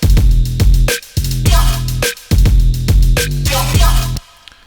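A pitched-down 'step sound' synth lead plays choppy, stepping note patterns in loud rhythmic bursts over deep bass, stopping abruptly near the end into a faint tail.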